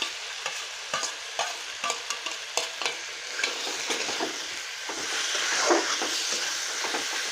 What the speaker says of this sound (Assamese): এতিয়া এয়া কাটি থোৱা জলকীয়াখিনি ইয়াত দি দিব।